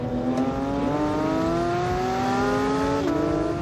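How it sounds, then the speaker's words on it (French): A Porsche naturally aspirated engine revving hard, its pitch climbing steadily in a smooth high whine, then dropping briefly before rising again, loud and close. "Le dernier moteur atmosphérique sur une Porsche."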